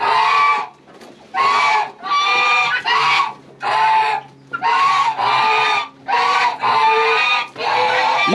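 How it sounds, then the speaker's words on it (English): Geese and chickens let out on a farm on a fall morning call loudly and repeatedly in close bursts of honking and clucking, with short gaps between each outburst. "Pretty much let the geese and the chickens out."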